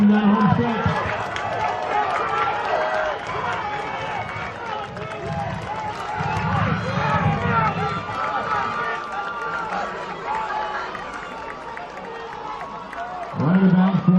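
Crowd at a New Jersey high school track and field championship meet cheering a runner down the home stretch, a sustained roar of voices with a public address announcer speaking over it.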